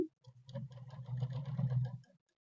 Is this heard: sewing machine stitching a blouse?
yes